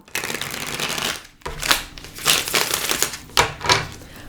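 A deck of tarot cards being shuffled up close, with a long riffling burst followed by several shorter rapid flutters and slaps as the cards are cut and pushed together.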